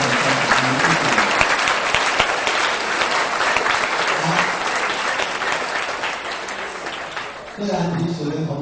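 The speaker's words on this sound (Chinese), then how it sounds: "我们掌声谢谢我们的爸爸妈妈啊" Students and families give dense, loud applause to thank parents at a school farewell ceremony. The clapping fills the clip without a break, and a voice speaks over it near the end.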